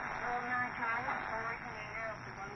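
A voice comes through a Tecsun PL-880 shortwave radio amid a dense wash of static and hiss, the broadcast strong but noisy throughout.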